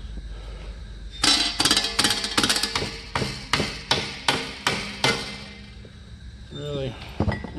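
Hammer tapping an aluminum sheet while shaping a shoulder bell for Aliens Colonial Marine armor: a rapid run of sharp metallic clinks, close and bright, stopping in a quiet gap before a few more taps at the end.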